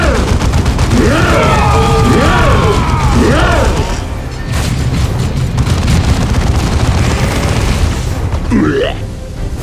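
Gunfire and explosions from the Dawn of War 2 battle game crash and boom continuously, with rapid volleys and heavy blasts layered over swooping effects and a low rumble.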